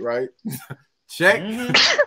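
A single sharp sneeze bursts out close by near the end, right after brief bits of talk from a person.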